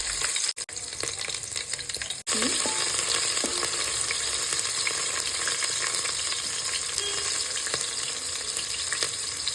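Cumin and finely chopped garlic fry in a hot pan with a loud, steady, close sizzle that runs throughout, broken only by two brief dropouts near the start.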